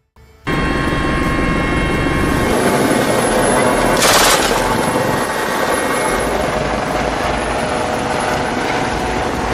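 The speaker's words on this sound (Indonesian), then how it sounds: "militer Prancis sampai menurunkan sebuah helikopter, kemudian menembaki kapal bajak laut dari udara." A French military helicopter fires on a pirate ship from the air: steady loud rotor thrum and turbine whine throughout, with a dense burst of rapid gunfire in the middle.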